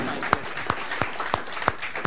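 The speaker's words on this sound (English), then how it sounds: "We should just give them another round of applause to all of them." Scattered clapping from the audience at a DevOpsDays Singapore 2016 conference Ignite session, applauding the speakers: about six sharp, evenly spaced claps over two seconds, fairly close, with no crowd roar.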